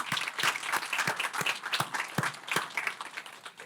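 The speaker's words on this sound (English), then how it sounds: "a round of applause." An audience applauds at a community event for a primary care health provider, with steady, dense clapping from a fairly large crowd that continues throughout without talk.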